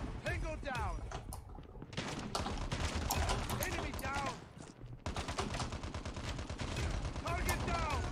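Rifle gunfire in Call of Duty Mobile, dense overlapping bursts of automatic shots and explosions running throughout, loud and busy, with game sounds and voices mixed in.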